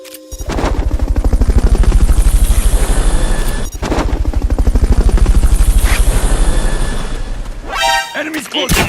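Helicopter rotor thumping steadily and loud in Metal Gear Solid Peace Walker, mixed with rapid gunfire bursts, briefly cutting out midway before resuming, with a sharp burst of effects near the end.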